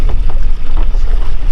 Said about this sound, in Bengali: আমাদের নৌকো ভটভটি চলে এসছে।